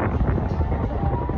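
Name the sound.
strong wind at Enchanted Kingdom amusement park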